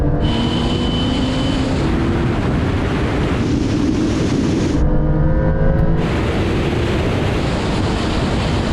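A Ferrari 488 Pista launching hard in a drag race against a Porsche 911 Turbo S and Lamborghini Huracán Performante, a loud engine surge heard amid heavy wind rush, with a brief gear-shift dip midway, no talk.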